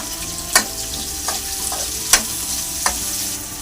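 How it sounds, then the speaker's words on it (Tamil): Bursts of sizzling as a handful of curry leaves drops into hot oil, with a few sharp crackling spikes over a steady frying hiss and some stirring. "கைப்பிடி கருவேப்பிலை போட்டுக்கலாம்."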